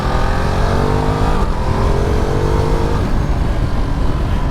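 Engine of a 2022 Ducati Multistrada V2S adventure tourer motorcycle, a steady loud drone that rises in pitch through the gears with a brief shift break, heard close from the rider's seat with wind noise.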